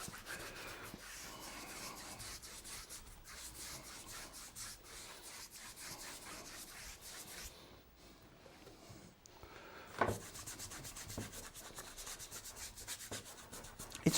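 Bristle brush with split-ended hairs scrubbing paint onto paper, a faint, continuous dry rubbing with quick strokes, easing briefly near the middle and then resuming.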